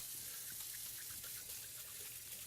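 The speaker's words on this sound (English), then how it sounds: "I am going to get a quick wash going on in my hands" Hands washed under a running kitchen tap, a steady close rush of water with faint splashing changes, no talk.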